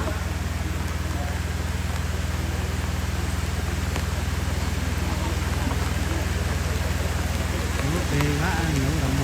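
Steady, dense rain falls on a shelter at an outdoor Easter church gathering, a constant loud hiss throughout with faint voices underneath.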